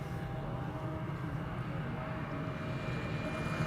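An Embraer 175 E2 jet at Amsterdam Schiphol hums at a distance, a steady, moderate engine drone with a faint high whine, heard without voices.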